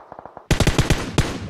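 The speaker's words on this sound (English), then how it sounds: "And it looks like there's some gunfire." Video game gunfire in rapid bursts: a quick quieter volley of shots, then louder, closer automatic fire cracking in a fast, uneven rhythm with one final sharp shot.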